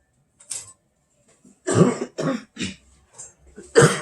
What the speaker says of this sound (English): I'm sorry, I'm still coughing and stuff